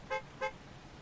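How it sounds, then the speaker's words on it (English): A minivan horn honks twice in quick succession, two short bright toots standing out over a steady low background. "Who you honking at, minivan?"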